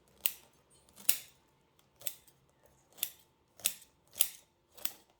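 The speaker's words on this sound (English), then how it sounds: "Rocks in your scissors when you go to cut." Scissors cutting bonsai with rock grit caught in the blades, seven sharp gritty snips at a steady, unhurried rhythm, close and crisp with quiet gaps between cuts.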